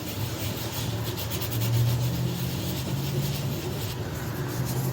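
Crazy glue and baking soda are rubbed in circles into a drywall patch, making a continuous close scratchy rasping that stays fairly even throughout.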